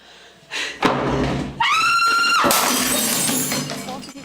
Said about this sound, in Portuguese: Gritei e quebrei o objeto mais próximo.